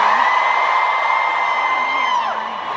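A large audience at a corporate convention yells, whoops and cheers in one sustained, loud roar of many voices that fades slightly toward the end.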